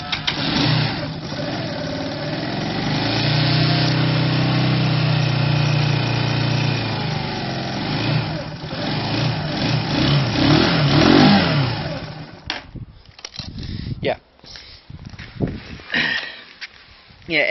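A Zontes Tiger ZT125-3A 125cc custom motorcycle engine runs and revs, a steady mid-pitched drone rising and falling close by before cutting to rougher, intermittent noise, with someone talking over much of it.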